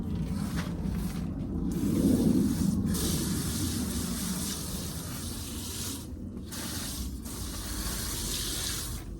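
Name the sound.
watering a potato plant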